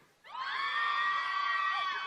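A festival concert crowd in Yilan breaks into loud, sustained high-pitched screaming and cheering, which starts abruptly and holds for about two seconds.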